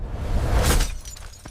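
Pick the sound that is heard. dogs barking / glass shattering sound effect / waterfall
glass shattering sound effect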